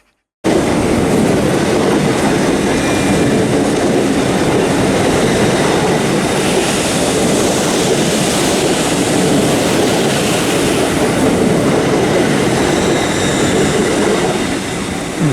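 Two Great Western Railway Class 802 trains pass Reading West with a loud, sustained rush of wheels and rail noise and faint clickety-clack, filling the whole stretch at close range after a brief silent start.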